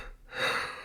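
A man's yawn, a short breathy intake swelling into a drawn-out, airy exhale, close and fairly loud with no words.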